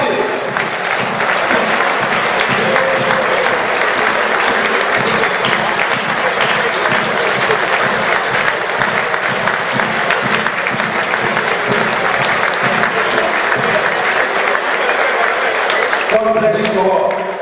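Audience at a HeritageTV fifth-anniversary celebration clapping loudly and continuously, a dense wall of applause with crowd voices mixed in throughout.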